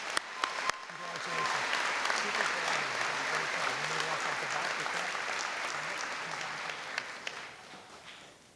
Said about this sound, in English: A round of applause to Jacqueline.